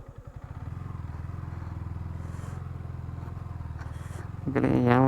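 A KTM Duke 250 motorcycle engine rumbles steadily at close range with a rapid pulsing beat, swelling louder as it revs near the end, with faint voices in the background.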